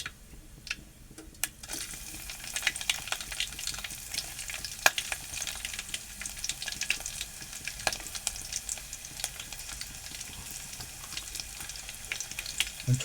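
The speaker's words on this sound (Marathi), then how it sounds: "लसूण चांगला परतून घेऊ" Garlic sizzles in hot oil with mustard seeds, cumin and curry leaves in a pan for a capsicum and potato dish, making a steady, fairly soft frying crackle with scattered pops and small stirring ticks throughout.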